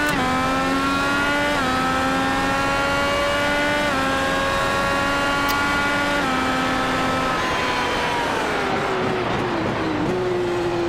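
An IndyCar lapping COTA in iRacing, with a loud engine whining close by as it climbs through the gears with repeated upshift steps, then braking and downshifting toward the end.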